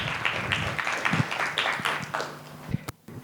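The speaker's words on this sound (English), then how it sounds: "please just give him a round of applause as he takes the stage" An audience at a conference on nuclear power development in Kenya applauds as a speaker takes the stage, a moderate patter of clapping that fades out near the end.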